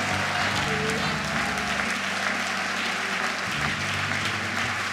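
Congregation in a church temple giving a sustained round of applause, steady dense clapping throughout with a low tonal hum underneath.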